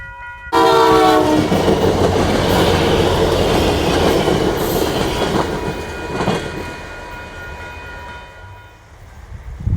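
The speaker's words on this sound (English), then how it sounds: "We'll get a first-hand look at this train going by." A train rumbles past close by, opening with a loud blast of its horn, wheels clattering steadily before the noise fades into the distance.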